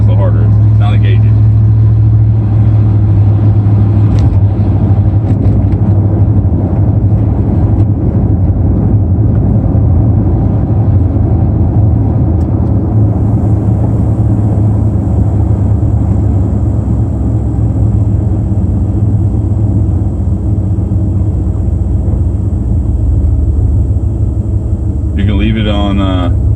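A truck driving in the rain with the gas applied, fitted with a lunch box locker, gives a steady loud low engine and road rumble throughout, with people talking over it.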